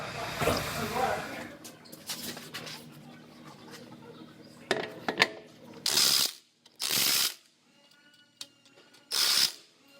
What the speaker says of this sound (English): So I'm gonna go ahead and zap those last 2 welds.